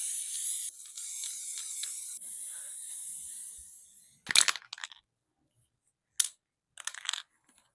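A spray paint can sprays paint for cosplay, a steady close hiss lasting several seconds and fading, followed by a few short rattling and sputtering bursts as the can runs low.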